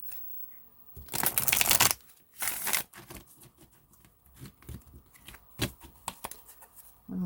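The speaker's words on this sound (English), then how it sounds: "One more shuffle." Tarot cards are riffled and shuffled in quick bursts, papery rustling close up, followed by softer handling and light taps.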